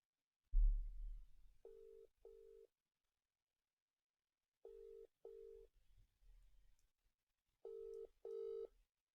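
A phone call tone in a Football Manager livestream: after a soft thump, short paired beeps repeat in three bursts with gaps of silence between them, like a busy signal. The beeps are clear and sound close.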